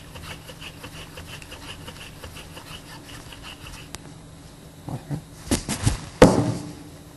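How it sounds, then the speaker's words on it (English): Hand drilling into a wooden block with ancient Egyptian woodworking tools, heard as a few scraping, rubbing wood strokes that grow louder toward the end after a quiet start. "Drilling halfway into the block."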